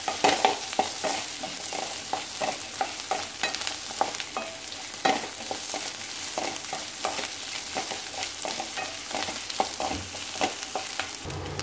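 Grated coconut sautéing in a hot pan, a continuous sizzle broken by rapid, busy stirring scrapes and clinks, close up with no talking.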